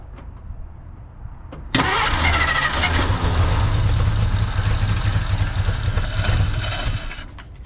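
A 1950 Dodge Meadowbrook with a leaking carburetor cranks and its engine fires abruptly, running loud and close with a rough, throaty idle for several seconds before cutting off.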